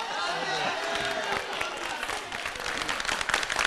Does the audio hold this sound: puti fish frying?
no